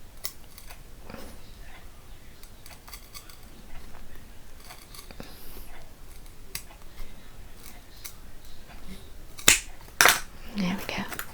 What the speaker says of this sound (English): I'm just going to take my scissors and carefully, holding it here and pressing quite hard, cut along